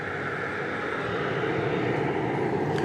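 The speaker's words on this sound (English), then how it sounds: "Super 80 Swiss Air says go around, possibly vectored for 13 right arrival" Swiss Air Super 80 airliner going around at DFW Airport, a loud, sustained broadband jet roar that holds steady and swells slightly, heard alone without speech.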